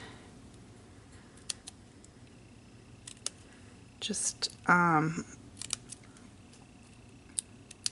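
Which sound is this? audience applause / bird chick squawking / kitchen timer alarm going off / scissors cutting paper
scissors cutting paper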